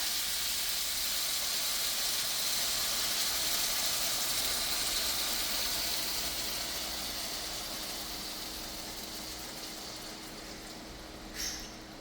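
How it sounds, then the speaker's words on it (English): Chicken broth poured into a pan, a continuous broad hissing splash that stays steady and slowly fades toward the end, with a brief clink near the close. "Now I'm going to pour 48 ounces of chicken broth."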